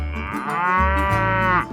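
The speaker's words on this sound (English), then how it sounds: "Holstein cow." A Holstein cow lets out one long, loud, deep moo up close, rising and holding before trailing off, with no other sounds.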